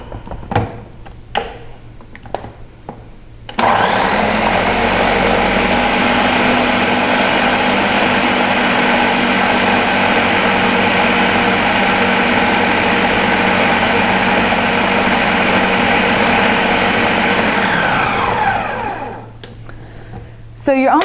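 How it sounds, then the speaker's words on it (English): A food processor blends red pepper hummus, a loud steady whirring drone that starts abruptly after a few knocks and runs continuously for about fifteen seconds before winding down. "So you're only going to be blending for about 30 to 60 seconds at a time"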